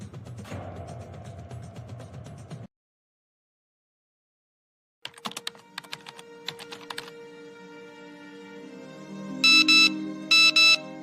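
Mobile phone ringtone going off after a stretch of keyboard typing and a pause, a bright melodic tone that plays near the end in short repeated bursts, loud and close.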